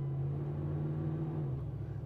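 A 1995 GMC Sierra C1500 pickup truck driving off, a low steady engine hum and rumble with a slight shift in pitch near the end, no talk.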